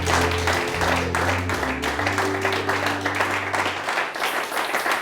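Applause from a church congregation acclaiming the Lord during a French-language service, steady and fairly loud clapping over sustained organ or keyboard chords for the whole stretch.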